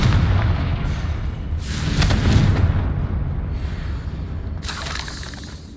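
A Confringo fire spell blasting in the Hogwarts Legacy video game, a loud rumbling explosive burst followed by a decaying roar and a second crackling burst near the end.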